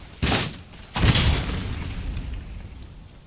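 Cannon fire in Empire: Total War, with two heavy booming shots about three-quarters of a second apart, each trailing off into a long rumbling battlefield din.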